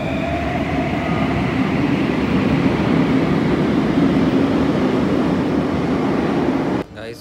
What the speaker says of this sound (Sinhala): ඔන්න මේ ෆස්ට් ටයිම් මට තනියම මෙට්‍රෝ එක යන්න සිද්ධ වුණා